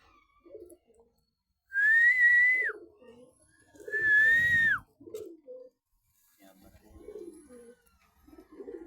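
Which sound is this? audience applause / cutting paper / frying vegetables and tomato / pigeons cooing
pigeons cooing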